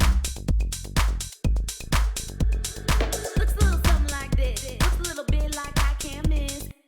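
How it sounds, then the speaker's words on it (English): A vocal in Maschine carries a reverse reverb effect: rhythmic phrases that swell up into each attack, then cut off sharply, repeating in a steady pulse over several seconds, loud and close with no other voices. "create a reverse reverb effect on a vocal in Maschine"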